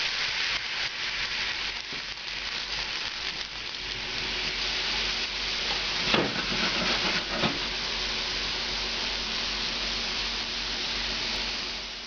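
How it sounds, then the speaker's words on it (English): Chicken in a pan is flambéed with about an ounce of cognac in a professional kitchen: a dense, steady roaring hiss like heavy sizzling with a brief louder whoosh midway, and no talking. "we're going to flambe them with about an ounce of cognac"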